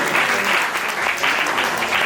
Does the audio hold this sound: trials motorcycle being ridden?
no